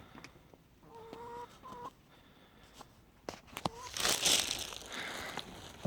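Chickens cluck and squawk close by on a rural property, with short repeated calls, a few sharp knocks and a loud flurry of scratchy noise toward the end.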